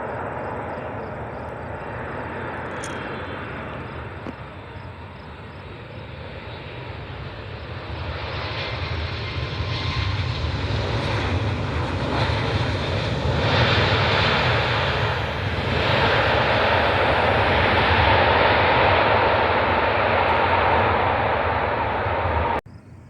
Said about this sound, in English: Delta Connection 3875, it's an Embraer E175. Inbound from Detroit.